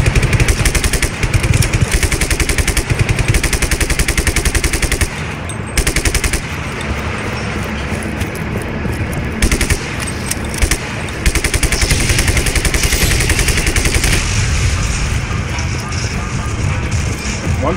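Dense, loud gunfire from the video game Just Cause 3 rattles almost without pause in rapid automatic bursts, mixed with engine noise and effects, while a player speaks over it.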